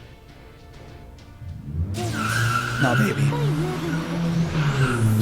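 A loud car engine revs hard and its tires skid and squeal in a racing video game. The sound surges in suddenly after a quieter stretch, then holds loud and sustained while a person talks over it.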